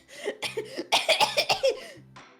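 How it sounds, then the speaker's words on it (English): A voice actor playing a nervous witness in the Ace Attorney: Dual Destinies courtroom game lets out a string of about nine short, close coughs, loud and tightly clustered, with a brief pause before a final cough. "Do you always cough when you get nervous"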